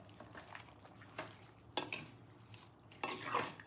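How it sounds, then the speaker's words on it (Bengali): A utensil stirs a tomato ketchup mixture with salt in a pan, giving a few scattered scraping and clinking strokes, close and moderately loud, with quiet gaps between them and no talking. "এবার সব কিছু দিয়ে ভালো করে একটু নেড়ে দিই।"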